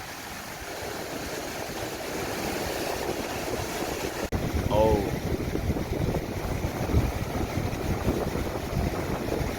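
Strong wind roars steadily across the microphone at Songjeong beach the day before a typhoon, with waves washing underneath. The rumbling gust noise grows heavier after a handling bump midway, and a brief exclamation is heard.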